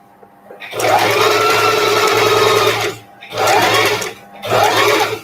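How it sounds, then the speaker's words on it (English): A sewing machine runs in three loud, close bursts as it stitches fabric scraps together, with short pauses between the runs. "And then continue sewing."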